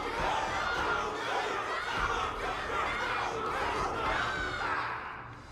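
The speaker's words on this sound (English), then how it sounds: "Everyone's cheering for you, Luca!" Crowd cheering in the video game Honkai: Star Rail, a dense, steady roar of many voices with shouts and chatter mixed in, loud and continuous throughout before easing slightly at the end.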